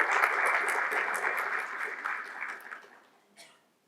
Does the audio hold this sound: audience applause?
yes